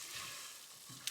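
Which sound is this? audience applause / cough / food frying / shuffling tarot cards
food frying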